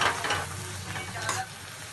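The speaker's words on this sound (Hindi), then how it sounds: "अब हम इसको अच्छे से मिक्स कर देंगे।" Mashed eggplant for baingan bharta is stirred in a hot pan, a close, continuous scraping and mixing over a soft sizzle that lasts the whole moment.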